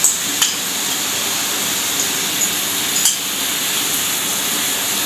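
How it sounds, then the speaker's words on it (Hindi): Yogurt is stirred into masala frying in a pan, with a loud, steady sizzling hiss throughout and two sharp spoon clinks against the pan. "और फिर मैं जल्दी जल्दी से मिक्स कर देंगे ताकि ये फटे नहीं"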